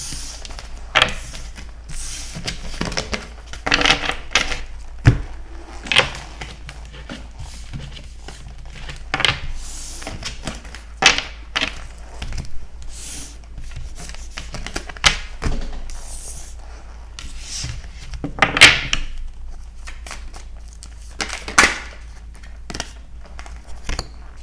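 Tarot cards being gathered and shuffled by hand: intermittent soft slaps, riffles and shuffling bursts at an irregular pace, close and fairly quiet, with no talking.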